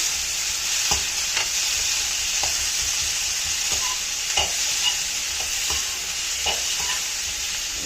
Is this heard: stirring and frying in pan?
yes